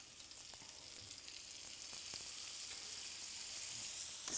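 Coffee-rubbed steaks sizzle in melted butter in a hot pan, giving a soft, steady hiss with a few faint pops that swells slightly toward the end. No one speaks.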